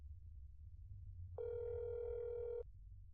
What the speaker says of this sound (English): Let me call his apartment to make sure he doesn't answer the phone for himself.